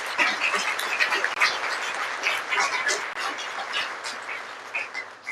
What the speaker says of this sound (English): So Sharon, so the applause goes to them.